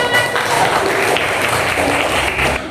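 A classroom of students applauds as a group comes forward to present, loud dense clapping from many hands close by that holds steady before easing off at the end.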